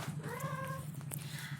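A cat lets out one drawn-out, wavering meow nearby, followed by a few faint short clicks, over a low steady electrical hum.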